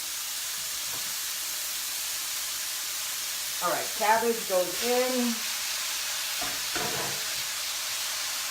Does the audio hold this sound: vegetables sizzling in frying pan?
yes